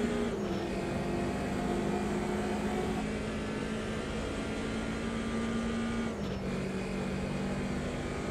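A BMW 2002 Turbo race car in Automobilista 2 at Monza holds a steady, droning engine note with a sustained buzzing tone that shifts pitch around three and six seconds, heard alone at moderate volume.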